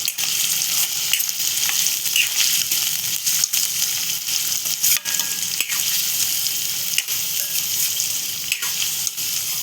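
Chopped onion fries in a pan for a monsoon wild-vegetable dish, giving a steady close sizzle broken by occasional stirring scrapes and clicks.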